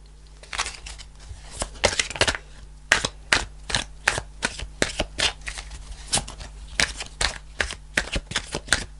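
Tarot cards are shuffled close up in quick irregular bursts of crisp riffling slaps and snaps, loud against a quiet background.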